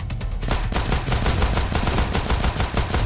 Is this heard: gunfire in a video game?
yes